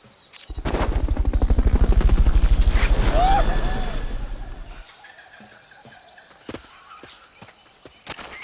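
Helicopter in the Metal Gear Solid Peace Walker video game, a loud rapid rotor chop that swells for several seconds and then drops away, followed by quieter scattered clicks and thumps.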